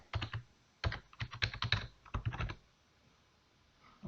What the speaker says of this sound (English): Okay, type the password.